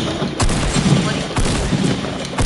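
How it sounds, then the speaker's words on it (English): Rapid video-game gunfire pours into a cart, a dense, loud string of shots with sharp repeated cracks filling the whole moment, without pause. "I'm shooting his cart."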